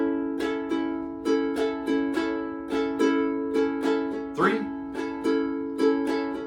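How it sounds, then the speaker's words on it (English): A ukulele strummed in a steady, bouncy island strum, with a choppy chucked accent, close and clear, with no voices. "with that island strum, sounds something like this."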